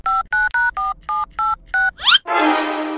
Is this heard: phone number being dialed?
yes